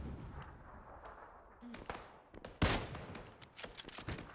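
Gunfire in the battle royale video game PUBG, with faint scattered shots and one sharp, louder report partway through, under quiet background noise.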